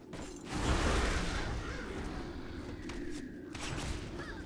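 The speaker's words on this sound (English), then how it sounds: "By contrast, kill command sounds like this." Kill Command ability firing in World of Warcraft, heard alone as a short burst of layered game effects: a swelling whoosh with a dull thump, followed by lingering rumbling texture and a few faint mechanical clicks.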